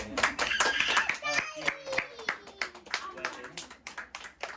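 A group claps hands steadily at a baby shower celebration, brisk rhythmic clapping close by with voices talking and calling out over it throughout.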